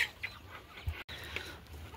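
Golden Misri hens on a farm give a few faint, scattered clucks against a quiet outdoor background, with one brief low thump partway through.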